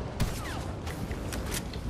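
Gunshots in Fortnite lava mode aimed at a supply drop as it floats down, a few spaced shots over a low game backdrop.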